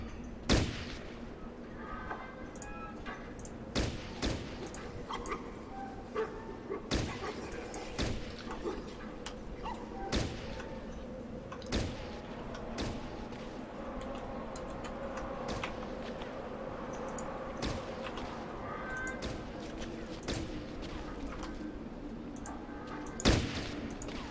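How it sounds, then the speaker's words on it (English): Scattered gunfire from enemies in the video game Fallout Tactics: sharp shots and bursts at irregular intervals over a low steady game ambience, with occasional louder reports. "These guys are just firing for no reason."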